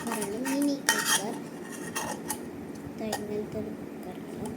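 A toy mini cooker from a unicorn play set being handled: light plastic-and-metal clinks, taps and rattles in irregular bursts, close and fairly soft, with a few brief vocal sounds in between.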